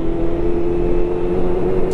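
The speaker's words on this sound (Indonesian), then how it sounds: "Geber santai aja." A motorcycle engine at a Sunday morning group ride revs loudly and close, holding a steady, strong droning tone throughout.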